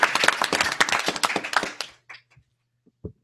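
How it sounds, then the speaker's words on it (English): An audience at a Monday night crowdfunding meeting applauds with dense clapping for about two seconds, then trails off into a few scattered claps and small sounds. "Let's first give this guy a round of applause."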